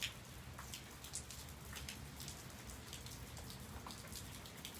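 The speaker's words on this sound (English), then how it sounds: "It's been raining all day here in the south, in the southeastern part of California." Steady rain falls outside by a front porch in southeastern California on a day of constant rain, a soft continuous hiss with scattered drips and patters, fairly faint, with no voices.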